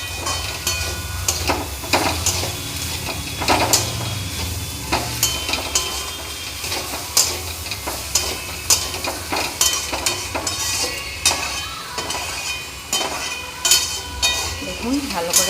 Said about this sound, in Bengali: এই যে এটা ভালো করে কষে নিচ্ছি